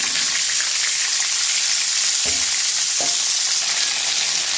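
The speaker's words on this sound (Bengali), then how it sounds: "মটরশুঁটিটা ভাজবার জন্য ফোড়নে দিয়ে দিলাম শুকনো লঙ্কা, গোটা জিরে, আর দিয়ে দেবো মটরশুঁটি" Peas frying in hot oil with dried red chillies and whole cumin, a steady bright sizzle throughout with two brief stirring knocks, no voices.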